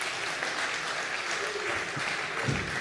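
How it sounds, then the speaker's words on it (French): An audience at a talk on agricultural robotics gives warm, sustained applause for a livestock farmer, a thick continuous roar of clapping with faint voices underneath. "je vous invite à encourager sous vos applaudissements nourris"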